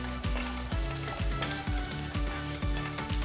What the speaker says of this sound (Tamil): இதில் 1/2 டீஸ்பூன் சீரகம், 1/2 டீஸ்பூன் சோம்பு போட்டு கிண்டுங்க